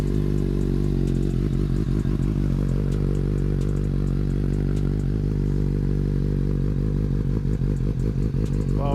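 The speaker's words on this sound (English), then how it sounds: "it has a much deeper, a more bassy kind of note to it while it's idling" A Suzuki GSX-S750Z motorcycle fitted with a new Yoshimura AT2 exhaust idles close by, a steady, deep, bassy engine note with a rhythmic low pulse and some mechanical clatter throughout.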